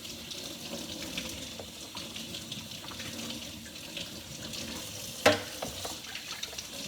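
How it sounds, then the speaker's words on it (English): Water runs steadily into a sink with a soft, constant hiss as makeup brushes are rinsed, broken by a single sharp clink partway through. "on the other side of the sink, I'm going to start to rinse"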